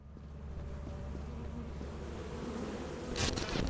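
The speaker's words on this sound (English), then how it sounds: "some stray bees I couldn't see" Bees in Lethal Company buzz in a steady, droning hum that stays loud and close throughout, with a brief brighter burst near the end.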